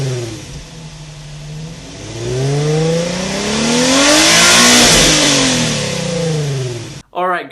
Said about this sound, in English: this is what the Nissan 350Z sounds like